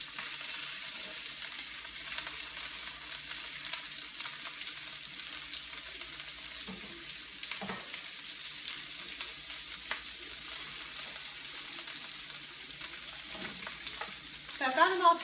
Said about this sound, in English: We're going to try to brown up 3 sides of the meatball